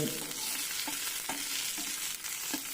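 Shallots and curry leaves frying in a pan for beef curry, a steady broadband sizzle with a few light stirring clicks, close and fairly quiet throughout.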